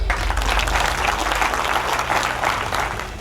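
Audience applause at a talk, steady dense clapping from a crowd throughout.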